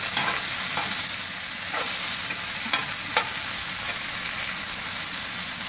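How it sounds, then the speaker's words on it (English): Brussels sprouts sizzle steadily in a hot skillet on a grill while a utensil stirs them, adding a few sharp scraping clicks over the continuous frying hiss. "We got the skillet nice and hot before we put the Brussels sprouts in here. Let's mix those up a little bit."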